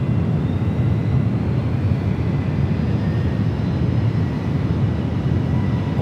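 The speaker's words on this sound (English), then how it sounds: "We do have a Delta 767 heading to 28 right." Steady roar of a Delta Boeing 767 airliner on arrival at San Francisco airport, a broad, constant rumble holding evenly for the whole stretch, moderately loud and distant, with no voices over it.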